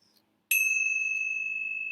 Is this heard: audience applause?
no